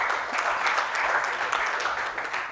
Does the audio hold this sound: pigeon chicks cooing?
no